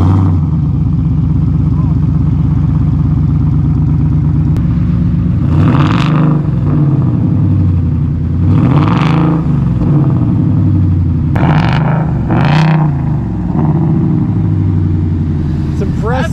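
A Saleen Jeep engine idles with a loud, steady rumble and then revs hard several times in sharp, rising bursts before settling back to idle, with people talking nearby.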